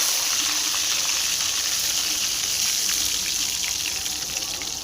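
A whole fish fries in hot oil, giving a steady, dense sizzle and crackle that holds at an even level throughout, close and continuous with no talking.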